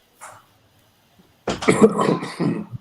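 A faint throat noise, then a loud burst of harsh coughing, several rough coughs in quick succession, close by.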